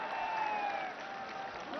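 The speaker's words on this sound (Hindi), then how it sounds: "जोरदार तालियों के साथ स्वागत।" Steady applause from a crowd at a political unveiling ceremony fills the whole stretch, fairly even in loudness, with a faint tonal sound drifting above it.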